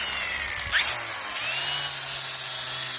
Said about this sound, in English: I just get my sander